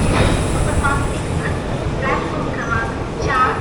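Alappuzha–Chennai express train hauled by locomotive 22559, a loud, steady rumbling roar filling the whole stretch, with voices and a few short, higher-pitched yelps rising over it.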